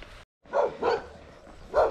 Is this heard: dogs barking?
yes